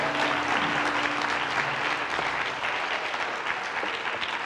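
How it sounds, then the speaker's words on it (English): A church congregation claps their hands in praise during a Wednesday service, a continuous wash of many hands clapping at once, fairly close and sustained. "Give the Lord a big hand clap for praise tonight."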